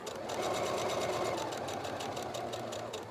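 A sewing machine stitches fabric for a reusable microwave popcorn bag, its needle running in a rapid, even mechanical chatter, close and steady, with no voices.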